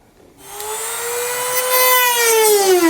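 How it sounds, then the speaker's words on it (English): A rotary tool cuts into the underbody panel of a 2018 Jeep JK Wrangler Unlimited. After a moment of quiet it spins up into a loud, steady, high-pitched whine that grows a little stronger up close. "take a rotary tool, and we're going to cut on this outside edge"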